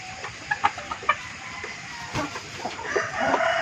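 Chickens clucking and calling around a morning feeding of Madre de Agua leaves and a little broken rice, with several short sharp calls early on and a busy farmyard murmur, fairly close and without talk.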